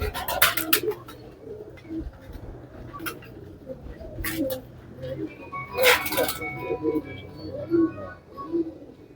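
Pigeons coo softly at close range amid a busy outdoor mix, with a few sharp bird chirps and faint voices in the background.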